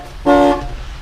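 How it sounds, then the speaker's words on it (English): Single short honk from a 1972 Lincoln Mark IV horn, sounded by pressing the rim blow steering wheel; loud, close and about a quarter second long. "A rim blow steering wheel. So anywhere you push, you're honking the horn"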